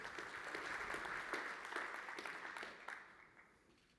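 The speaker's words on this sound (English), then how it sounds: "Give him a round of applause." Presentation audience breaking into applause, a full, steady clatter of many hands that carries on evenly before fading away over the last second.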